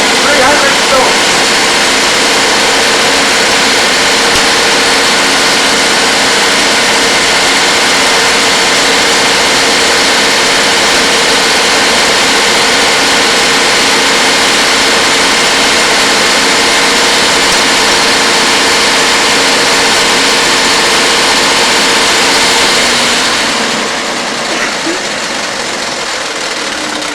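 An engine runs steadily on a fuel pump test stand at full fuel and 900 RPM, a loud, constant roar held for the whole stretch before it drops away abruptly near the end.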